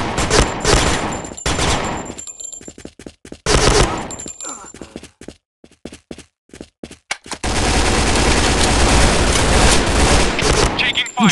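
Shooter video game gunfire: dense, loud bursts of automatic weapon fire and rapid single shots, with brief gaps before a long sustained barrage, under game voice callouts.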